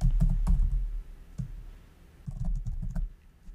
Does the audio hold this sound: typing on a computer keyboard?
yes